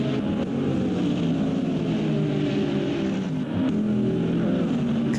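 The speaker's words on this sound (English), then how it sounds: "Yeah, that's the Jack Oxford for the number 23 Lexus RCF GT3." GT3 race cars including a Lexus RC F GT3 and a Corvette racing side by side through the Long Beach street circuit, a steady engine roar with shifting pitch at moderate distance, no talking.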